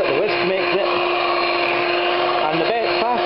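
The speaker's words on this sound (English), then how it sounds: "Sorry about the noise, but the whisk makes it." An electric whisk whirs steadily while beating batter in a kitchen, a loud constant motor drone heard throughout, with speech under it.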